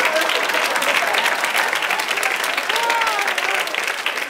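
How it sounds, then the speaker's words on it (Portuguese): Comedy club audience at a stand-up show breaks into steady, dense applause mixed with crowd noise, loud and continuous throughout. "Só o macumbeiro aplaudiu"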